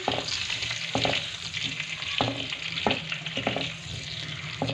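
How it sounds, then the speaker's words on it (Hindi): Potato pieces fry in oil left in the pan after the masala was removed, making a continuous close sizzle with intermittent stirring clatter and no talking. "इसी ऑयल के अंदर मैं शामिल कर दूंगी आलू। और अब आलूओं को भी फ्राई करूंगी"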